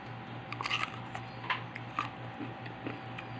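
Crunchy guava, the American variety, being bitten and chewed up close, with several crisp crunches spaced about half a second apart over a low steady background hum.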